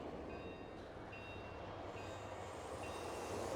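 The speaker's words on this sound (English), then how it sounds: "They're sending a second train." A train rolls past in StarCraft II as a steady, dense rumble, loud and continuous, with faint high tonal whines above it and no speech.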